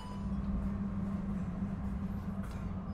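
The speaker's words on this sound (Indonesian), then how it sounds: "pukul 13:17, kereta api Sancaka diberangkatkan dari stasiun Madiun." Sancaka passenger train pulling out of Madiun station, a steady low rumble of wheels and engine drone, heard from on board or close by, even and sustained with faint metallic clinks, no voices.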